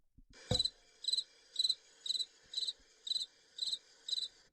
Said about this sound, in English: Thank you for the cricket sound effect.